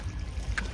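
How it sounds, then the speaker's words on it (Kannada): A boat pulls in at a boarding point for a boating trip, giving a brief, steady rush of engine and water noise with a short bright splash near the end. "ನಮ್ಮ ಬೋಟ್ ಬಂತು ಗೈಸ್"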